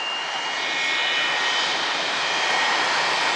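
A Qatar Airways jet airliner roars overhead near Atlanta airport in a steady, loud, broad rumble with a faint whine, growing slightly louder as it passes.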